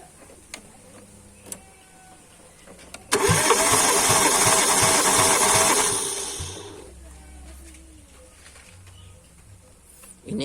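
During a cylinder compression test, a car engine is cranked by its starter. It gives a loud, rhythmic chugging whir for about three seconds that fades out, with faint clicks before and quiet ambience after.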